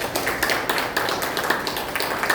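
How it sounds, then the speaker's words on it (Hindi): A lecture audience breaks into dense, steady applause after a talk on Vedic psychology, many hands clapping at once in a continuous crackling patter with no voices over it. "एक बार जोरदार तालियां।"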